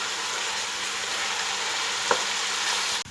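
Onions frying in a pan on a second stove burner give a loud, dense, unbroken sizzle, with one faint knock partway through and an abrupt stop at the end.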